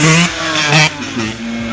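A motorcycle engine revs hard during a wheelie, loud and close, with three quick throttle blips rising and falling in pitch over a rough mechanical drone.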